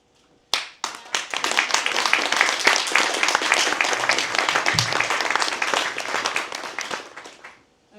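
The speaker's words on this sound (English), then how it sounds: "danke, dass ihr applaudiert habt" An audience applauding at the opening words of an event in a café. Dense clapping starts abruptly, holds steady and close for about seven seconds, then thins out and stops.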